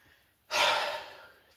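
Heavy breathing in a hot room: one long, breathy exhale or sigh rises suddenly close to the microphone, then slowly fades over about a second.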